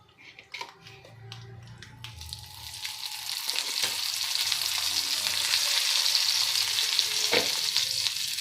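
A few clicks and taps, then a loud, steady sizzle builds as spinach chutney hits hot tempering oil, crackling continuously up close.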